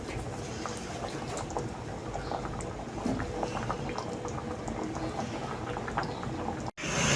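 Chickpea curry (cholay) simmers in a pot, a dense continuous bubbling and popping of thick liquid heard close, steady throughout with a brief dropout near the end.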